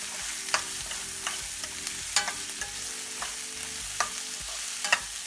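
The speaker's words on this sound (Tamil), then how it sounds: "கட் பண்ணி வச்ச வெங்காயத்தையும் சேர்த்திடுங்க. ஸோ வந்து வெங்காயம் நல்லா வணங்கணும்" Finely chopped onions sautéing in a pan for mutton keema, a steady close sizzle with occasional sharp clinks of a spatula stirring against the pan, no voices.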